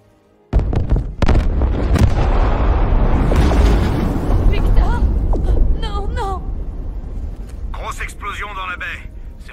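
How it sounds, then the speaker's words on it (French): A sudden loud explosion in the video game Batman: Arkham Knight erupts into a long rumbling roar with crackling debris and a rising whine, voices heard over the noise. "Explosion dans la baie."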